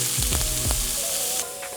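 Celery and onions hit a hot pan of melted butter and sizzle, a soft crackling fry broken by a few clattering stirs, fairly quiet and with no talk.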